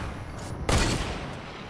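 A single loud burst of video game gunfire erupts suddenly, then its rapid crackle fades into a lingering tail over steady background noise.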